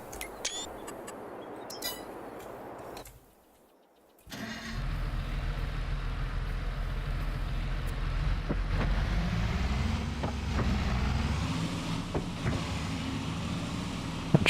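A Steiger tractor in Farming Simulator 22, its low engine rumble starting up loudly after a brief near-silence and holding steady, with faint clicks and wind-like hiss over it and no talk.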